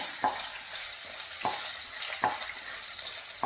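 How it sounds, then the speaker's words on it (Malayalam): Ginger and garlic fry in hot oil in a pan, a steady sizzle with a few sharp clicks of stirring or tapping breaking through every second or so. "ഇഞ്ചി ഇടാം, കുറച്ച് വെളുത്തുള്ളി ഇടാം. ഒന്ന് ചെറുതായിട്ട് മൂക്കട്ടെ."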